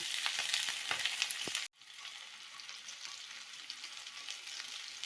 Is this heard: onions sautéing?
yes